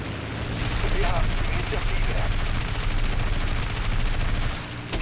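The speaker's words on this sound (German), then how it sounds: "ich krieg übelst die Schüsse ab" Rapid gunfire strikes a plane during a dogfight in the video game War Thunder, a dense continuous burst of shots lasting several seconds that eases off near the end, with no talking.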